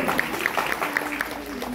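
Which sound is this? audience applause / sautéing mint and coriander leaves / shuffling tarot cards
audience applause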